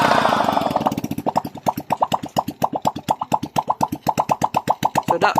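A Honda XRM 125 motorcycle engine idles steadily after a top overhaul, giving a close, even, rapid string of exhaust pulses with no voices.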